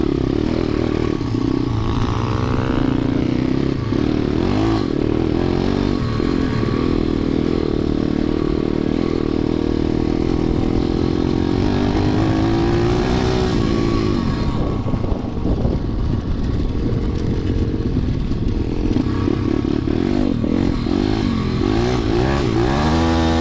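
A KXD-PRO 2 dirt bike rides through sand, its engine droning loudly and steadily close by, with revving swells and clattering running throughout.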